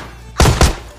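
Two heavy shotgun blasts ring out in PUBG Mobile Lite as a bot is taken down, loud, close, booming thuds about a quarter second apart with no voices over them.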